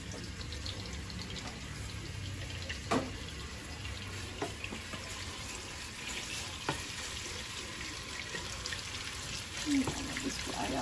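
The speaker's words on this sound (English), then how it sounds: "And then I'm going to fry out my bacon." Bacon frying out in a pan for collard greens gives a steady crackling sizzle throughout, with occasional louder pops and a few utensil clinks near the start and end.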